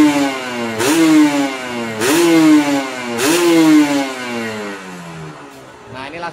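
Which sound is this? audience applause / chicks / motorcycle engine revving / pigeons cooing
motorcycle engine revving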